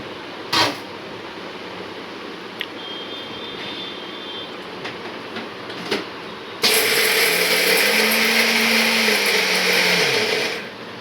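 Roasted peanuts are coarsely ground in a mixer grinder, a loud sustained whirring run that starts abruptly, holds for a few seconds and winds down. Quieter handling clatter with a few sharp knocks comes before it.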